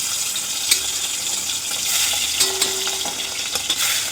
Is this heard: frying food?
yes